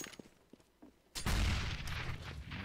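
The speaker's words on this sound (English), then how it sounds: "There's a early cheeky nade up mid to try and get a bit of damage if anyone opting to cross" In Counter-Strike on the Inferno map, a grenade thrown up mid goes off: a few light clicks, then a sudden loud, rumbling blast that carries on as a sustained roar to the end.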